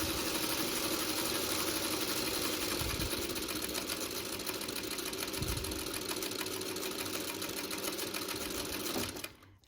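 A sewing machine stitches a quarter-inch quilt seam on a quilt block, running in a fast, even, continuous whir close by, with a couple of soft knocks, then stopping abruptly at the end.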